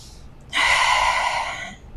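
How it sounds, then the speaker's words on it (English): A single deep breath during a yoga stretching session, a soft rushing inhale swelling up and then tapering off, close and alone. "With another deep inhale and exhale"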